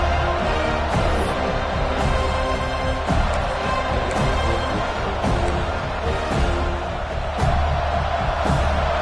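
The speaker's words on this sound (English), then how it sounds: "Listen to the crowd energy here in the early going." A stadium crowd roars continuously in the NCAA 26 college football video game, a dense, loud wash of cheering with occasional swells, alone without talk.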